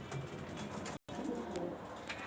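A domestic pigeon coos softly in a soft, repeated pattern with a brief dropout midway, set against a faint, busy loft background.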